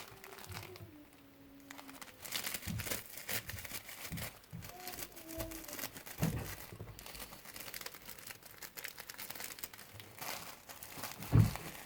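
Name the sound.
crinkly rustling fabric toy tail being handled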